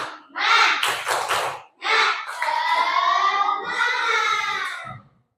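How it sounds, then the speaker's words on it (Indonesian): Children in a classroom perform the 'tepuk semangat' clapping chant. Close, loud group voices chant in short rhythmic phrases, with a brief cluster of claps early on before the chanting continues and stops abruptly. "Mari tepuk semangat."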